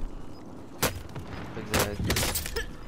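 Sniper gunshots in Call of Duty: Modern Warfare crack out in a few sharp, loud bursts spaced about a second apart, set against a low background rumble.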